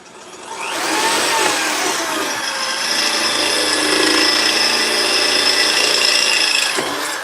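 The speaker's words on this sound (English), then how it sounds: "Drill a hole. Put a rivet in." A power drill bores a hole through armour plate for a rivet, a loud continuous whine with grinding metal texture holding steady for several seconds before winding down at the end.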